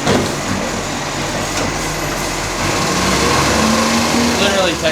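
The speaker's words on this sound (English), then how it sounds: "Left-hand drive garbage truck." A left-hand drive garbage truck runs nearby, its steady engine drone and mechanical whine holding loud and constant, growing slightly heavier toward the end.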